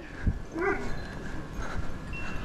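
At a customer's doorstep during a rainy food delivery, a dog lets out a brief high whine followed by a couple of soft yips, with faint thuds and background noise.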